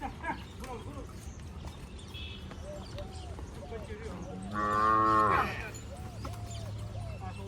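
A Kankrej cow lows loudly on a farm in Banaskantha, one long harmonic call rising over steady background noise and birdsong, with voices nearby.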